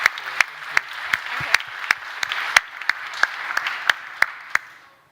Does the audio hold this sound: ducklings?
no